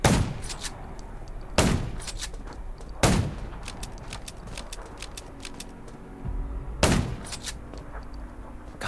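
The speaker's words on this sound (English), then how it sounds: "Gunshots will attract more zombies." Gunfire in the zombie survival game Undawn: sharp, loud shots ring out in separate bursts, a few quick rounds at a time with pauses between, against a low background rumble.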